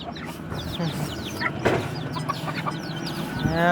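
Chickens clucking repeatedly at a rural farmyard, close and fairly loud, with short overlapping calls throughout while people talk nearby.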